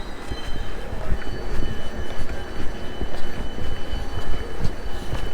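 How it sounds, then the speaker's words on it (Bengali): A train pulls into a railway station in Egypt, its steady rolling rumble and faint metallic clatter filling the scene at close range without a break. "আমার ট্রেন চলে আসছে"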